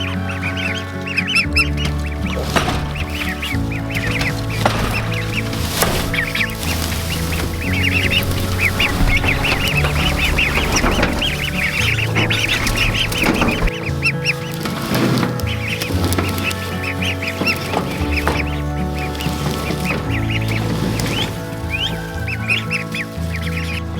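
Loud, continuous honking and quacking from a crowd of ducklings, overlapping calls filling the whole stretch without pause.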